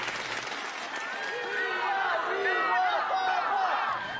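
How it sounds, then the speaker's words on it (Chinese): A crowd applauds warmly as children welcome Pope Francis at his arrival in Singapore, the clapping a soft, steady wash beneath prominent voices talking over it. "全场响起热烈的掌声"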